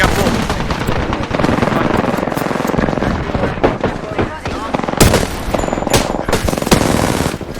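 Rapid automatic weapon fire in the video game Apex Legends, dense loud bursts and single shots rattling continuously while players talk over the gunfire.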